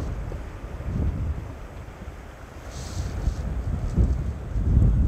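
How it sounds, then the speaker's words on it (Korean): Strong wind gusts roar across a microphone at a wide riverside campsite in spring, a steady low buffeting rumble that swells and dips over several seconds without any talk. "바람이 너무 많이 불어."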